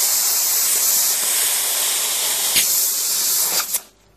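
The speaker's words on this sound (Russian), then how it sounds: "Если нас устраивает вот такое вот распыление" A spray gun atomizing sealant gives a steady, loud hiss of air and material that runs without a break, then sputters briefly and cuts off near the end as the trigger is released.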